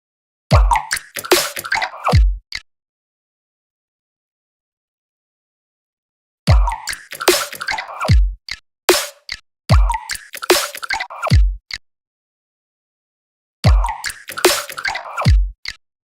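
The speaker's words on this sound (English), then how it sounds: "Droplet chord." A synthesized droplet chord plays in three short bursts separated by silence, each a rapid run of bright, watery plucks with a low thump at the end of the phrase, loud and close with no voices.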